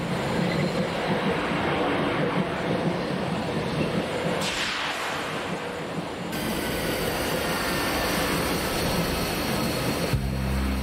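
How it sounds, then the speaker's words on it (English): An animated train runs on rails with a loud, steady rumble and rattle, a brief whooshing shift partway through, close and continuous without talk. "Just get on the freaking train!"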